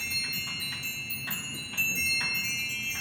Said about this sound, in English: It's got those bells, and it's turning a piece that has wood that goes around and strikes several pieces of